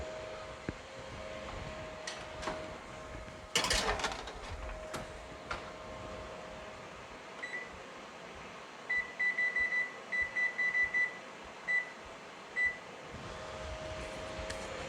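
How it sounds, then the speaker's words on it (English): A kitchen oven signals it has reached 500 degrees with a run of short electronic beeps in quick bursts, fairly faint over a steady room hum, after some earlier clatter and thumps. "you hear the oven's beeping again. That means it's at 500."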